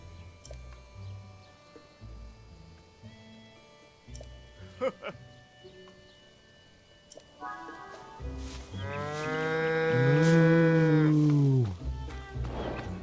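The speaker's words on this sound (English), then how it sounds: "Dance's prize cows." Cows mooing in Zelda: Tears of the Kingdom at Hateno Village, a long, loud drawn-out low moo rising and falling near the end, after quieter game sounds and brief clicks.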